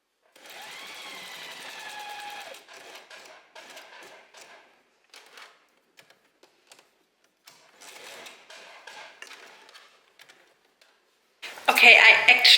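A sewing machine top-stitches fabric in short bursts at first. There are quiet pauses with soft handling noises, then a loud, close run of sewing at the end.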